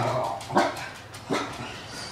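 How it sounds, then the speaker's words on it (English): A dog barks twice, close and fairly loud, with short separate barks spaced under a second apart against a low background hiss. "Oh, bark, bark."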